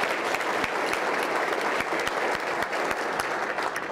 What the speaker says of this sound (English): So the round of applause is for a thank you for them for doing such a great job.